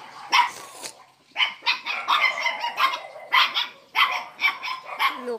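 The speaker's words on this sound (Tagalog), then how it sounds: "Loko mga asong to." Several neighbourhood puppies bark and yip in a busy, overlapping string of sharp barks, close and fairly loud, with short pauses between bursts.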